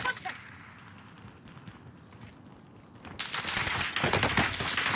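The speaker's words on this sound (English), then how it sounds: "I'm taking shots!" Video game gunfire crackles as rapid bursts of shots, quieter at first and then loud and dense in the final seconds, with a voice heard over it.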